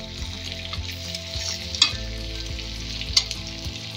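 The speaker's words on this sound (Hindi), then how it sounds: "दूसरी साइड से भी फ्राई करेंगे।" Mutton pieces sizzle in a pan as they fry on their second side, a steady close frying hiss with occasional sharp spits and scraping, no talk.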